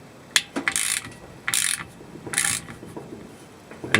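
Ratchet tightening screws during a washing machine spin repair, giving three quick bursts of close, crisp clicking with short pauses between them and no talk.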